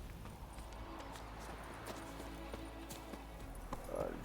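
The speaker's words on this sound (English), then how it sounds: "Al fin tenemos caballo." Horse hooves clip-clop in The Witcher 3, a quiet steady walking rhythm of hoofbeats under game ambience and music.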